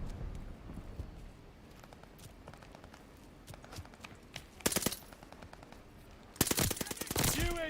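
A Tommy gun fires in Call of Duty Vanguard, with short bursts of automatic gunfire amid game sounds and footsteps, turning louder with dense rapid shots toward the end, and a faint voice underneath.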